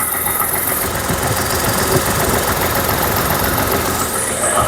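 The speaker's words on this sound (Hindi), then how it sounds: "और इंजन का नॉइज़ भी देखिए, मैं थोड़ा लेके जाता हूँ।" Tata Tigor car engine running near the microphone with a steady, loud idle hum and slight rev, its even mechanical drone and vibration continuing with no talk over it.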